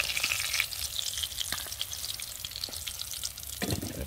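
Fish sizzles and crackles steadily in a hot pan as it fries golden with lemongrass and chili, a close, continuous frying sound with no voices.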